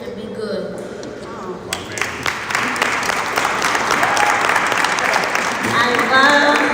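Audience applause at a school choice rally in Pennsylvania swells from scattered clapping into a full, sustained ovation that grows louder toward the end, with voices talking underneath.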